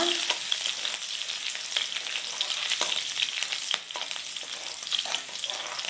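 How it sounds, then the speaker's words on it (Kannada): Chopped garlic, ginger and green chilli fry in a pan with a bright, continuous sizzle and occasional stirring scrapes, close and steady throughout, with no voices. "ಈಗ ನಾವು ಕಟ್ ಮಾಡಿ ಇಟ್ಕೊಂಡಿರೋ ಬೆಳ್ಳುಳ್ಳಿ ಶುಂಠಿ ಮತ್ತು ಹಸಿಮೆಣಸಿನ್ಕಾಯಿ ಹಾಕೋಣ. ಇದು ಸ್ವಲ್ಪ ಫ್ರೈ ಮಾಡ್ಕೊಳ್ಳೋಣ."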